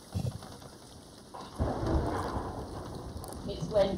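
Stormy weather in the Sea of Thieves pirate game, with a low rumble of thunder swelling midway and steady rain hissing over it, loud and continuous through the end.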